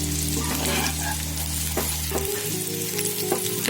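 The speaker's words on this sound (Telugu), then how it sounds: "ఎక్కువ ఫ్రై అవ్వకూడదు అనేసి, లైట్గా ఫ్రై అయితే చాలు." Chicken pieces frying lightly in a pan with oil, a steady close sizzle running the whole time, with a few faint stirring clinks along the way.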